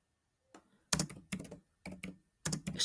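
Keys clatter on a computer keyboard in short clustered bursts, a few quick taps at a time with small gaps between, close and clear in a quiet room.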